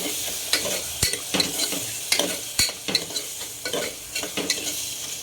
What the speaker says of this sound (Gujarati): ટમેટું, મરચું, આદું બધું એકદમ સરસ એકરસ થઈ જાય ને ત્યાં સુધી આને આપણે ધીમો તાપ કરીને ફેરવવાનું